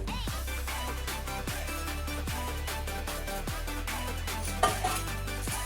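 Curry is mixed in a cooking pot, a spoon scraping and knocking against the metal in repeated strokes at an even pace over a steady background hum.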